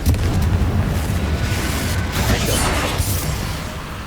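Spell blast from Confringo in the Hogwarts Legacy video game, a dense booming roar that swells and lingers across the whole span with crackling debris on top, loud and sustained before easing off near the end.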